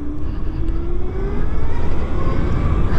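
A Zero FXE 7.2 electric motorcycle in sport mode coasts off the throttle at steady speed, with a thin, slowly rising motor whine over constant rushing wind noise, close and fairly loud throughout.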